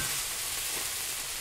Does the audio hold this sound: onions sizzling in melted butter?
yes